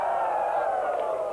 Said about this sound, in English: The crowd go, woo!